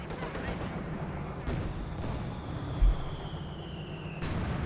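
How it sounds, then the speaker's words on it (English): A mortar shell strikes a T-34 tank in Company of Heroes 2. Sharp, heavy impacts land amid a dense rumble of battlefield gunfire, with a second blast near the end. "Mortar lands a decent hit in the T-34 from 6, nothing massive."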